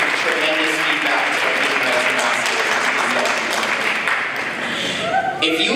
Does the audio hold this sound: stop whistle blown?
no